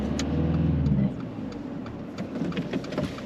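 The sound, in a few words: car driving off during a driving mock test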